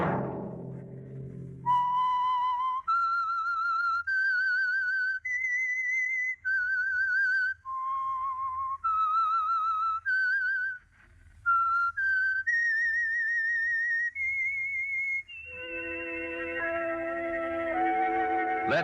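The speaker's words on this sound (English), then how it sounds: "Let that whistle be your signal for the Signal Oil program, The Whistler" A whistled signal tune for The Whistler, a 1947 CBS radio mystery program, rising and falling in a clear melodic line of sustained vibrato notes, loud and alone, ending with a brief orchestral chord.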